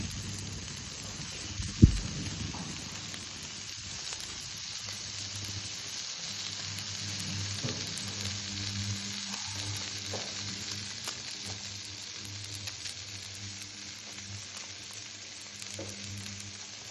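Meat frying in a pan over medium heat with its fat starting to render, a soft, even sizzle throughout and one sharp knock near the start, no talking.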